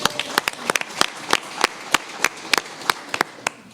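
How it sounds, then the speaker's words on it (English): A small audience at an evening candidate forum claps for the MC, sharp separate claps ringing out at an uneven pace, close and fairly thin, with no voices. "Can we give her a round of applause?"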